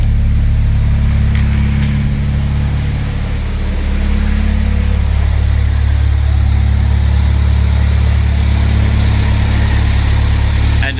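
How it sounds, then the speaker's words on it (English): Turbocharged Honda Civic engine idling steadily on its first start, a loud, close, even drone that dips briefly partway through and then resumes, with no voices over it. "Engine sounds healthy."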